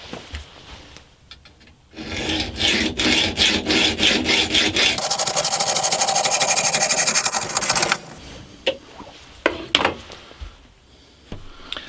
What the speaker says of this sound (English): I'll be cutting this off with a hacksaw